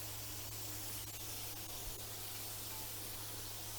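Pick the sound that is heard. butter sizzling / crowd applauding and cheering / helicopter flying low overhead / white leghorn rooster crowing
butter sizzling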